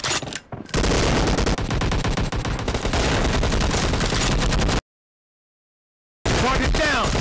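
Rapid gunfire in a PUBG team deathmatch M24 challenge, a loud, dense stream of shots rattling for several seconds, then cutting to silence before a fresh burst resumes.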